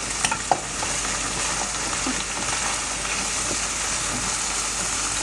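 Cubed boiled potatoes sautéing with cumin, fennel and chili make a steady, even sizzle in a pan, with a few faint stirring clicks near the start.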